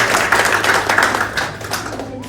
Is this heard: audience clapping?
yes